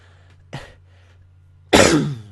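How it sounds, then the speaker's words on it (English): Someone gives a small throaty cough and then a louder, harsher cough close by, with a steady low electrical hum underneath. "sorry about that cough"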